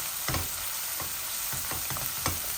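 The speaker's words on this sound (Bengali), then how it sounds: "এখন আমি হলুদ দি মাছটা বাজি করে লিছি" Tilapia coated in turmeric fries in a hot pan with a loud, continuous sizzle and periodic stirring scrapes, close and with no voices.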